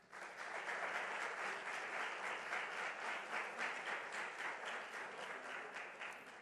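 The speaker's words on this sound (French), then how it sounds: "Je voudrais surtout vous inviter à acclamer très fort le comité scientifique." An audience at a closing ceremony applauds the scientific committee, dense sustained clapping from a large crowd that stays steady and full for several seconds and is heard at a distance.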